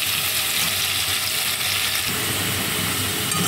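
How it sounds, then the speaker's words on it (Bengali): Potatoes frying in a pan of oil for a mutton curry, a steady dense sizzle that stays loud and even throughout with no voices. "তো এখন আলুটা ভাজা হোক।"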